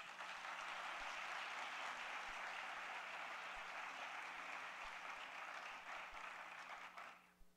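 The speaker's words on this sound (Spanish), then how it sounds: "Para ellas, un gran aplauso" An audience applauds women honoured at a Medal of Merit for Women ceremony, sustained clapping that holds steady for several seconds under a faint low hum, then tapers off at the end.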